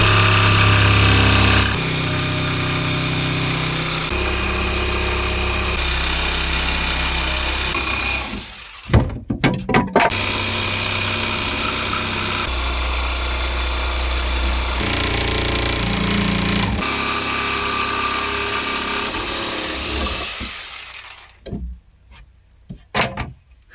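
A jigsaw buzzes loudly and continuously as it cuts a boat cabin part, pausing briefly midway with a few knocks, then resuming before stopping near the end.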